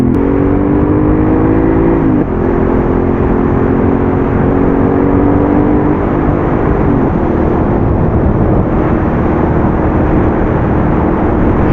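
A Yamaha XSR700 motorcycle engine drones loudly and steadily at high revs through a GPR aftermarket exhaust, its pitch dipping briefly twice as gears change, close and uninterrupted.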